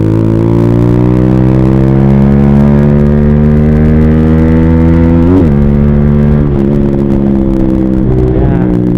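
Rusi Flash 150i motorcycle engine running steadily while riding, a loud continuous drone whose pitch holds level, dips sharply once midway and shifts slightly a few times as the bike keeps moving.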